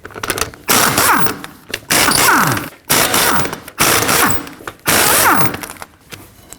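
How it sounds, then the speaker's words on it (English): Lug nuts on a Ford Edge wheel being removed with a 21mm socket on an impact tool: five loud, sharp bursts of rattling hammering, each lasting about a second with short gaps between them, close up and with no talking. "With the vehicle raised and supported, we can remove the lug nuts with a 21mm."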